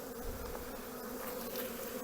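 Honeybees buzz at a hive entrance where a frame of drone brood has been set for returning foragers: a dense, steady, unbroken drone of many wings, close and moderately quiet, with no voices.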